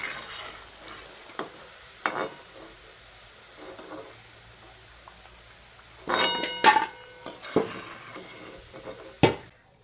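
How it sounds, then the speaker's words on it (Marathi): Dal baati dumplings frying in a batch of hot oil in a home kitchen, a steady soft sizzle with sharper clattering bursts of utensils against the pan near the end, close and moderately loud, no talk. "आणि आता पण दुसरा घाणा आहे तो पण तळून घेऊया"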